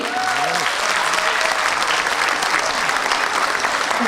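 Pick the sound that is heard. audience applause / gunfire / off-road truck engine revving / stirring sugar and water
audience applause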